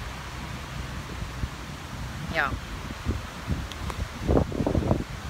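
Steady wind buffets a microphone outdoors, a constant loud rumbling roar throughout, with a person speaking briefly underneath.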